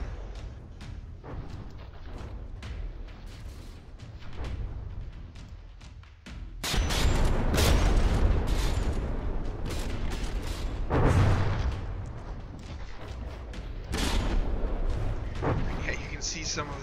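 Cannon fire from a rebuilt gun barrel in the From the Depths naval combat game booms out in heavy bursts and rumbling volleys, mixed with other battle noise while a commentator talks throughout.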